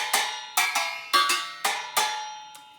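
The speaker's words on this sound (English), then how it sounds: "So the lids can make different sounds." Metal pot lids struck like drums and cymbals, six sharp ringing hits at a steady loose rhythm, each with a bright metallic decay and slightly different pitch, close and alone.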